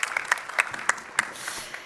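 Sparse applause in a meeting room at a conference on EU innovation investment, a handful of separate claps rising and fading quickly, fairly faint and distant.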